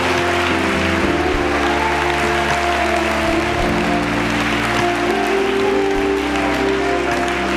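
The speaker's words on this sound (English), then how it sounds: "Give God a hand clap of praise right there" Church congregation claps in praise during a sermon, steady crowd applause layered over sustained organ or keyboard chords, loud and continuous throughout.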